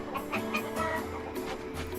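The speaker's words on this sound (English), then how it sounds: "Hey, a chicken." A chicken in the video game Valkyrie Profile 2: Silmeria clucks in several short, quick bursts, fairly faint, over a soft game music background.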